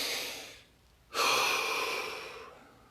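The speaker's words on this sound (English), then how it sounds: "Take a breath." A person draws a deep breath, a long airy inhale that swells suddenly after a short pause, following an earlier fainter breath, close and clear with no talk.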